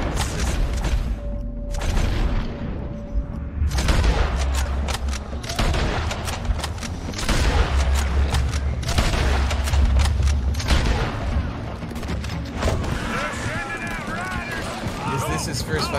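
Video game gunfire in rapid bursts and booming shots, with repeated loud volleys and fusillades scattered across the stretch, mixed under frequent overlapping talk from players.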